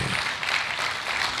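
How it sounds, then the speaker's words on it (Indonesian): Audience in a church service clapping, a brief steady patter of applause at moderate volume with no other sound over it. "Jangan tepuk tangan dulu."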